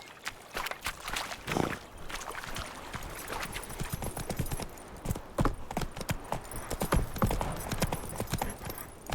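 Hooves of Roach, a horse in the video game The Witcher 3: Wild Hunt, clip-clop in a steady walking rhythm, moderately close, with faint ambient background and no talking.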